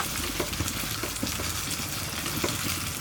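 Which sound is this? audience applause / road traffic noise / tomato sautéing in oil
tomato sautéing in oil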